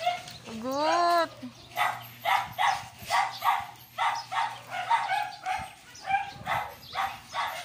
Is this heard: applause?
no